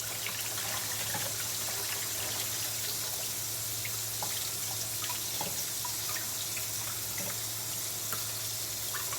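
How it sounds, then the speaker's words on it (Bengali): Leafy greens being washed by hand in water for a poa fish dish, with continuous running water and close splashing and sloshing throughout, soft small drips and trickles, and no talking. "এই যে ধোয়া দিলাম, শাক ভালো করে কষলে কষলে দিলাম যেন বালি বুলি না থাকে।"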